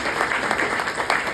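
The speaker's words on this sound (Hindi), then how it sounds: "ताली बजाओ उसके लिए।" A small group of people claps together, a steady, moderately loud patter of hands with a few sharper peaks, continuing throughout.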